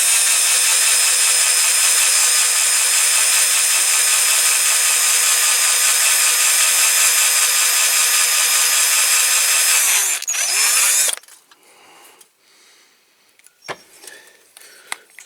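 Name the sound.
drill drilling out rivet post of die-cast toy car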